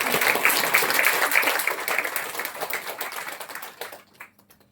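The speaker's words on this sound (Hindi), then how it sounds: "बाबा के लिए भी एक बार जोरदार ताली" Strong applause from an audience at a spiritual gathering, dense steady clapping at close range that thins out and fades near the end.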